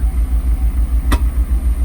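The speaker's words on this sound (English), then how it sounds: "so you can hear how the exhaust is just friggin' popping." A Mercedes R129 SL500 V8 running poorly, with a loud, steady, low engine drone and one sharp exhaust pop near the end, heard close up with no voices.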